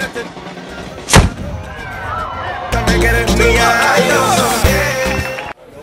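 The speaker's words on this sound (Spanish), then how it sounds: "aquí estamos viendo el cañonazo" A ceremonial cannon shot of the cañonazo in Cuba: one sharp, loud boom early on, followed by crowd noise, cheering and voices swelling as people react.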